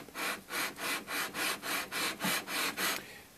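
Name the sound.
radiusing block sanding guitar board by hand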